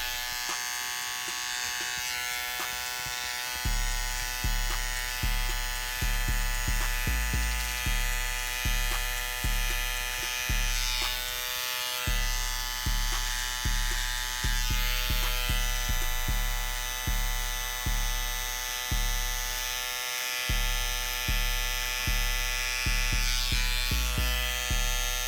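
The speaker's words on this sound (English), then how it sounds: "now I'm gonna use my trimmer and I'll be lining up the C-cup area" An electric hair trimmer lines up the edges of a burst fade haircut, a close, steady buzz cutting in and out in repeated short passes, with brief pauses between strokes and no talking.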